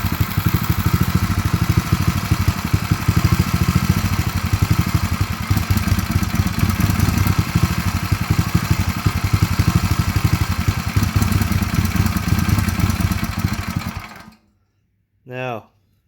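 A seized Honda engine, freed up and now running, revs hard under applied throttle in a loud, continuous, rough mechanical roar for about fourteen seconds, then cuts off abruptly into near silence with a brief short sound at the end.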